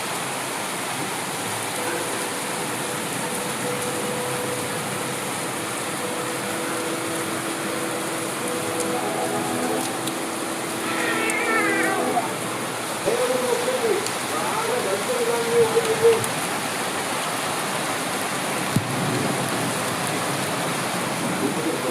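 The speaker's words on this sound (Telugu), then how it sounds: "వర్షం అయితే ఫుల్ పడుతుంది అన్నమాట." Heavy rain pours steadily outdoors in a village setting, a dense even hiss throughout, with faint voices and a few scattered clatters over the rainfall.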